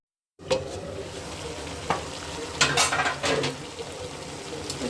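Yardlong beans and flat beans stir-fried in a pan for a rohu fish curry give a steady close sizzle, with several louder scraping and stirring strokes partway through.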